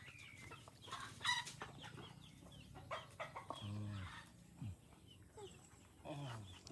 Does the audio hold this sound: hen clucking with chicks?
yes